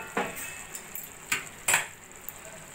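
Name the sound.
lifting the lid off a cooking pot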